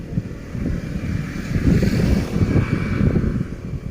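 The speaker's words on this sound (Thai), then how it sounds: "ลมแรงมาก" Strong wind buffets the microphone in a steady, loud roar while fishing, with a low rumbling gust noise throughout and faint water movement beneath.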